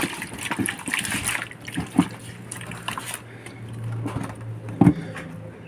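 A catch of yellow fish is poured out with water at home, an irregular run of gushing and splashing with two louder splats, one early and one near the end.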